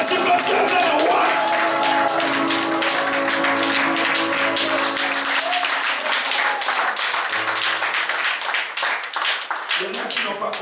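A church congregation claps steadily in rhythm while acclaiming Jesus, the dense clapping running under voices and music throughout.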